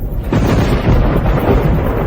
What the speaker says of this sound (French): Pourquoi y a-t-il soudainement du tonnerre?